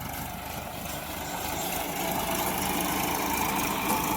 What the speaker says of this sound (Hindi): ये चल रहा है भाई साहब हमारे यहाँ पे ट्रैक्टर।